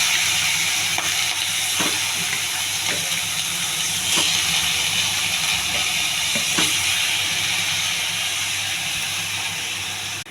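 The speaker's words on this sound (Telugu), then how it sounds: "చికెన్ వేయాలి." Chicken frying in a pan with onions and curry leaves, giving a steady loud sizzle and hiss with occasional clicks and stirring taps over about ten seconds.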